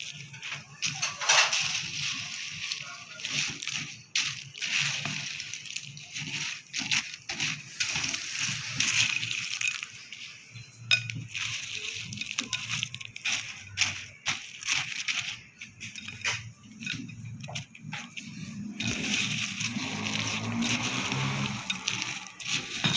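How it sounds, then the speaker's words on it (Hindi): Biscuit and chocolate cake batter is stirred and mixed in a bowl, giving repeated scraping, sloshing and clinking sounds in an irregular rhythm, close by and moderately quiet, with faint background noise. "अब इसको अच्छी तरह से मिक्स कर लेते हैं।"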